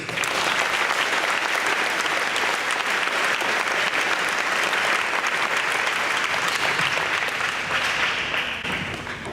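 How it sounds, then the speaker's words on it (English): An audience at a school sports sendoff for tennis and track athletes gives a long, sustained round of applause, a dense, even wash of many hands clapping that holds steady for about nine seconds and tapers slightly at the end. "So another big round of applause for Jake Herbs."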